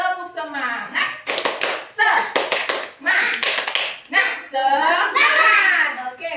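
Children in a classroom clap out a rhythmic clapping chant, bursts of hand claps in patterned groups alternating with chanted young voices, close and loud.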